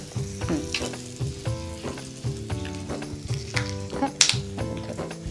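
Sesame seeds crackle in hot tempering oil with the gas turned off, following asafoetida, for a Maharashtrian bajri mutke dish; a steady close sizzle runs with rhythmic spluttering pops throughout.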